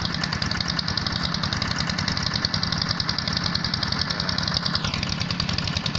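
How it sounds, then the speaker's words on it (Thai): A water pump engine runs steadily while draining a fish pond, a loud, continuous, close mechanical drone with a fast rhythmic chug and no pauses. "เครื่องสูบน้ำจะดัง รบกวนเสียงผมหน่อยนะไม่ว่ากันเนาะ"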